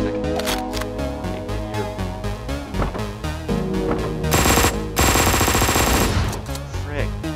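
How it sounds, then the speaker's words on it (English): Shotgun blasts in the Hotline Miami 2 video game: rapid, sharp gunfire cracks repeating over driving game music, with a dense, loud burst of shots near the middle. "I hate the shotgun, guys."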